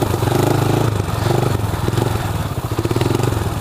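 Motorcycle engine revving hard and steady while being ridden through wheelies, loud and continuous, with a thumping, clattering drone filling the whole stretch and no talk over it.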